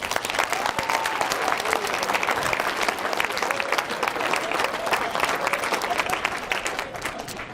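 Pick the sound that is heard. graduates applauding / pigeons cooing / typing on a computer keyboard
graduates applauding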